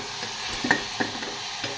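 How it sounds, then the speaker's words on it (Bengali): A spatula stirring and mixing a spiced mixture with ginger in a pan, a few soft scrapes and clicks over a low steady sizzle, close and fairly quiet. "তো ভালো করে মিশিয়ে নিচ্ছি।"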